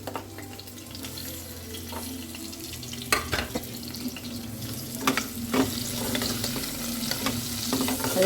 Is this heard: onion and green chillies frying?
yes